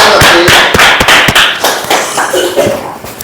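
Scattered hand claps at a seminar in Sunder Nagar, Mandi, sharp and close, a sparse uneven handful of claps with a voice speaking in between.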